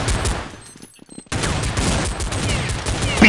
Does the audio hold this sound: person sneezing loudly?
no